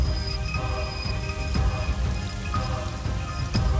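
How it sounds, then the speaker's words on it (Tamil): Heavy night rain pours from the sky in a steady, dense downpour, close and loud, with scattered sharper drop impacts and no voices. "ஆகாசத்திலிருந்து கொட்டுற மழை"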